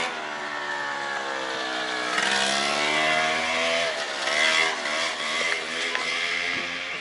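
A small motorbike ridden by a boy passes along a road, its buzzing engine note swelling and shifting in pitch as it goes by at moderate loudness, with no voices.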